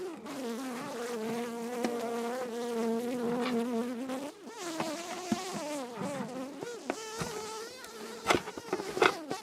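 Dense, continuous buzzing of many honeybees close by, a tiny colony nesting in a bird box, wavering in pitch, with a few faint knocks near the end and no talking.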